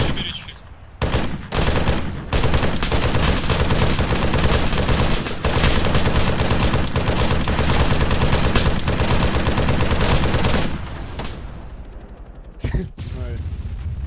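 Near-continuous automatic gunfire in a multiplayer video game, dense rapid bursts running for about ten seconds with brief gaps, loud and close, with a few faint voices at the edges.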